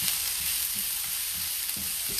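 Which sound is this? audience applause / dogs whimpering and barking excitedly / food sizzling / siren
food sizzling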